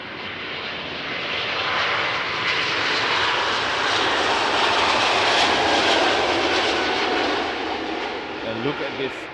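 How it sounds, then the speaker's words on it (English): A Korean Boeing 777 takes off from a runway at Schiphol Airport with a loud, sustained broadband jet roar that swells and holds, heard up close with no one talking. "We have a Korean 777 taking off."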